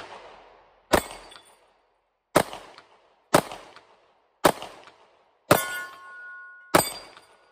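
Kimber Micro 9 compact pistol firing mixed ammunition at a shooting range, six sharp loud shots spaced about a second apart, each with a quick ringing decay and one followed by a brief metallic ring.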